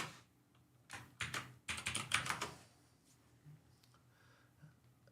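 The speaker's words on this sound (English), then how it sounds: "because I'm typing it through the app, it's not working?" Fingers clatter on a keyboard in quick irregular bursts of keystrokes, close and fairly loud, then fade into a quiet room with a few soft stray sounds.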